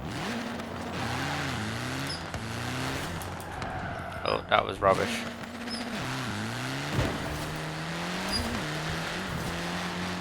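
A Hillman Imp driven in the video game Forza Horizon 4 gives a steady buzzing engine drone that rises and falls through gear changes, with a few brief clunks, while someone talks over it.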